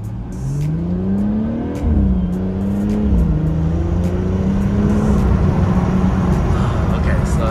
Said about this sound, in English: God, I love how this car sounds when you shift.